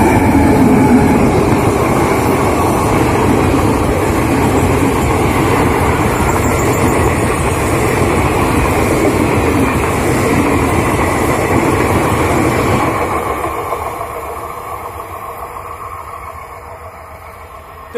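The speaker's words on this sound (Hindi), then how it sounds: "अभी अभी एक ट्रेन गई" A train rumbles loudly through a quiet railway station at Jugaur in Lucknow, a dense continuous roar of wheels and carriages that holds steady for a long stretch before easing off and fading near the end.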